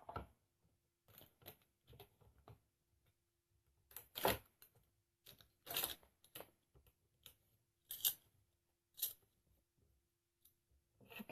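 A Big Shot die cutting machine presses its blades into cardstock, producing a string of sharp, close cracks and snaps at irregular intervals, alone over near silence.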